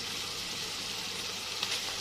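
Steady, even sizzling of colored bell peppers dropped into a pan of browning minced meat and onions, a continuous bright hiss with no talking.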